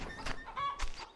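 Chickens clucking in the farming game Farmer's Life, two or three short bursts of clucks spread over about a second, close and fairly loud with no talking over them.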